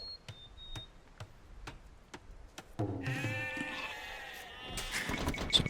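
A sheep bleats clearly in Age of Empires II, its wavering cry sounding after a run of evenly spaced clicks and ending with a short bright chime.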